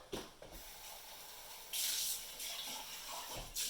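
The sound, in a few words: filling DeLonghi manual coffee machine with water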